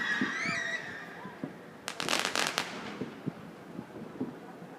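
Fireworks bursting at a Swiss National Day celebration, a quick cluster of crackling pops heard from a distance, with people chatting nearby throughout.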